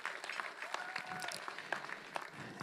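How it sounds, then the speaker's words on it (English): Sports awards audience giving a round of applause, fairly faint and scattered, with a few sharper claps and some voices over a thin crowd wash for a few seconds. "give me a round of applause"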